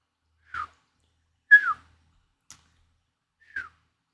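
A person whistles three short, clear notes, each falling slightly in pitch, spaced about a second apart against near silence.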